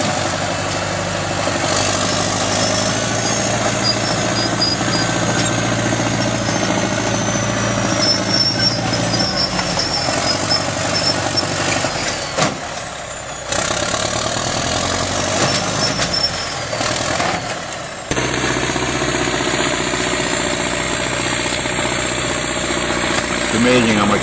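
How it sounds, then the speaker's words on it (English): A Caterpillar bulldozer engine runs steadily at close range while grading and raking rocks out of tree roots, a loud continuous diesel drone with a few brief dips and shifts in load. "It's amazing how much power these Caterpillars have."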